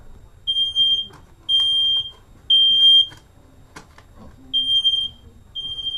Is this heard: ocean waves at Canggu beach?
no